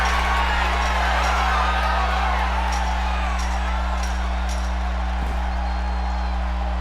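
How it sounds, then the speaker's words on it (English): A capacity arena crowd roars in anticipation at a wrestling event, a dense, continuous wall of cheering and whooping with steady loudness and a low hum beneath, no clear voices standing out. "listen to this capacity crowd"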